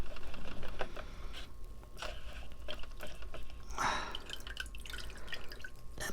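Water drips and splashes back into a bucket as potted plant roots are soaked and loosened by hand, a quick, irregular patter close by with a brief louder trickle midway.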